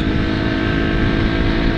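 Motorcycle engine revving steadily after sitting unused for two months, a loud, close, continuous buzzing drone with no break and no voices.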